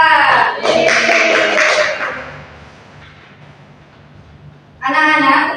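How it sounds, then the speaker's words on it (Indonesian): Children in a classroom clapping for a classmate, bursts of fairly close, rhythmic group clapping with a quieter gap in the middle and a fresh burst at the end, with voices mixed in. "tepuk tangan untuk Anissa"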